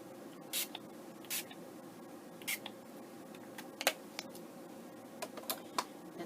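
A spray bottle spritzes alcohol ink onto ceramic tile in several short, separate bursts, fairly close and soft, with small ticks and handling clicks between them.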